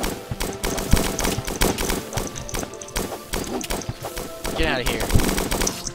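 Rapid bursts of gunfire from an enemy character in the Starbound video game rattle in quick repeated volleys, loud and close, mixed with other game effects while a voice speaks briefly.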